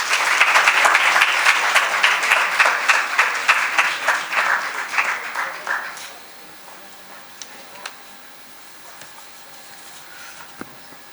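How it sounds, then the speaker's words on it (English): Loud audience applause at a university event marking Pakistan's Independence Day, dense and sustained at first, then fading away after about six seconds into quiet room noise with a few scattered claps. "Please put your hands together and welcome him with a big round of applause."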